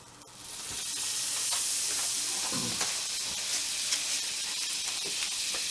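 Butter melts in a hot pan just drained of pork grease and cornmeal, a continuous loud sizzle that swells in after a moment and holds steady, with a few faint stirring taps.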